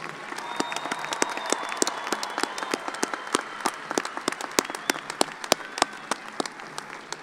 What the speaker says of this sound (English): Please join me in a round of applause for our new graduates